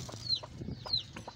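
Soft, irregular clucks of a black hen with a few high chirps, close by, over low background rumble and rustling.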